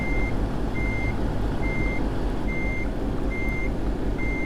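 Steady reversing beeps from a truck backing a trailer into a distribution center bay in American Truck Simulator, evenly spaced over a loud, constant engine rumble.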